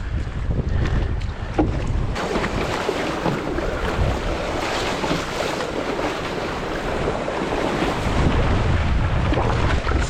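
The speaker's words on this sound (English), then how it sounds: "Wind's probably just touching 20 knots and not big at all, so very, very manageable for most people today." Wind and choppy sea water rush past a surfski paddling downwind in roughly 20-knot wind on the Olifantsbos route, a loud, continuous blustery roar with sloshing waves close by and no talking.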